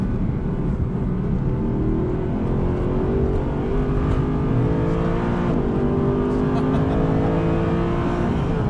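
A sports car runs a timed lap on a race track, its engine droning loudly and continuously with shifting pitch as it accelerates and eases through corners.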